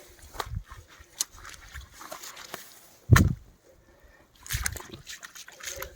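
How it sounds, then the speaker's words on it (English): Waterproof boots sloshing through a hillside puddle, a series of wet splashy footsteps with one heavy splash in the middle and quieter squelches around it. "no fear walking in water with these boots"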